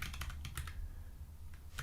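Keys clatter steadily on a computer keyboard while someone types into a JSON test file in the lvim editor, a quick run of close, crisp taps over a low room hum.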